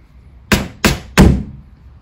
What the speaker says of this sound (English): just a tap with the hammer will get them down